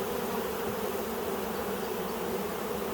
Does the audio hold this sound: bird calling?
no